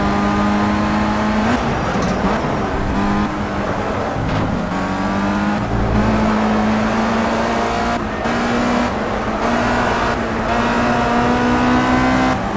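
A racing car engine in the sim racing game Project CARS 3 holds steady high revs with rising harmonic tones, loud and continuous, climbing through gear changes with brief dips.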